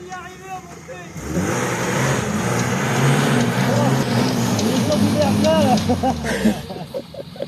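A 4x4 off-road vehicle in the Cantal countryside accelerates nearby, its engine rising into a loud sustained roar over rough ground for several seconds before easing off, while people talk excitedly over it.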